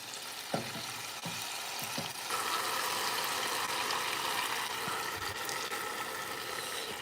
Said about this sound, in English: gonna pour the bone broth in there